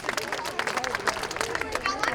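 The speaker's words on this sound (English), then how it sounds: "Please give Alhambra Academy another big round of applause." Audience clapping after an Alhambra Academy music performance at an interfaith music festival, steady dense applause from a crowd with some murmuring voices, moderately loud throughout.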